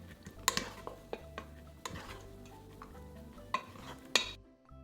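Warm steamed rice being mixed with sushi vinegar in a mixing bowl, a close, quiet stirring with soft scraping and a few sharp taps of the utensil against the bowl.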